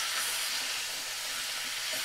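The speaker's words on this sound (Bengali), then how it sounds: "আমি মিডিয়াম ফ্লেমে রেখে ফুলকপি ভালো করে ভাজা করে নিচ্ছি" Cauliflower fries in white oil over a medium flame, a steady, even hiss of sizzling oil with no breaks.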